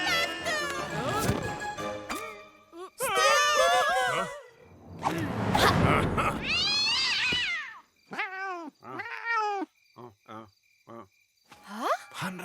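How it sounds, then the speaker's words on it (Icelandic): A cartoon cat yowls and meows: long, wavering caterwauls, then a string of short, sharp meows with brief gaps, loud and close. "Hann vill greinilega bara mjálma að galdrakallinum."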